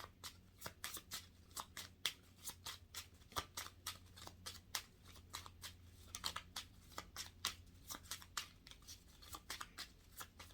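Tarot cards handled and shuffled during a general reading, a brisk run of crisp riffling slaps and flicks close up, irregular but steady, with a low hum underneath and no voice.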